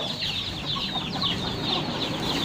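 Chicks and chickens on a Thai farm cluck and peep together, a busy flock of high chirps and soft clucks layered continuously at close range with no speech.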